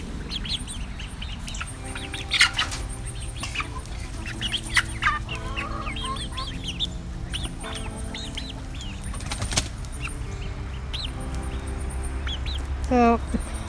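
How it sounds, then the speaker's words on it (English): Ducks and a goose on a homestead keep up a continuous mix of quacking, clucking and calling, moderately close, with other birds chirping and a few sharp calls standing out over a steady outdoor background. "The ducks are over here all by themselves, in a pile of peas."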